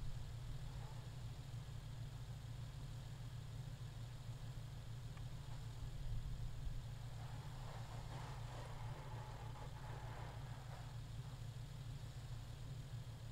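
A car engine in PUBG Mobile drones steadily as the vehicle climbs a hill, a constant mid-range rumble that swells slightly partway through.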